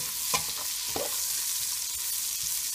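Sausage cooking in rendered bacon oil, a continuous soft sizzle up close with a couple of sharp stirring clinks near the start.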